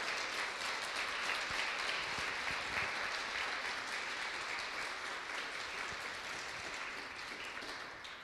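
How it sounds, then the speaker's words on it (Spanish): A church congregation applauds during a sermon, loud, sustained clapping that fills the room for about eight seconds and tapers slightly toward the end. "¿No crees que Jesucristo merece un fuerte aplauso?"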